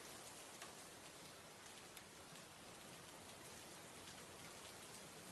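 Steady rain falls on a rainy street at night, a dense, even hiss of drops with no pauses, close and moderately loud, without voices.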